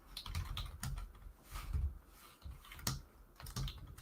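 Computer keyboard typing during Python coding, irregular quick key clicks in short bursts, close and fairly soft, with no talking.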